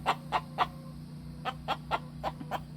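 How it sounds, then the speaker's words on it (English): Brahma hens in an acclimation coop cluck their egg songs in a rhythmic series of short, sharp calls, about ten in under three seconds, fairly close over a low steady hum. "My Brahmas are singing their egg songs."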